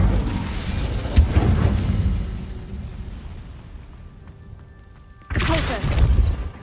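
A fiery Incendio spell blast in Hogwarts Legacy bursts out loudly, then a second strong burst follows after a quieter stretch with faint tonal game sounds.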